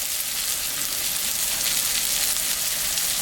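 Tomato going into a hot pan already seasoned with salt and turmeric, giving a loud, steady sizzle and frying hiss that holds evenly close by with no talk over it.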